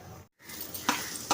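Carrots fry in a pan for carrot halva, giving a steady close sizzle with brief scraping stirs. The sound cuts out for a moment, then returns with the hiss and occasional louder stirring strokes.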